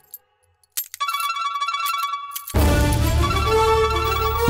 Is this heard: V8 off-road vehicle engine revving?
no